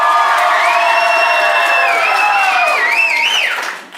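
A theater audience at a holiday main-stage musical show cheers loudly to vote for the musical it wants to see. The sustained whoops and shouts stay strong for several seconds, then fade quickly at the end.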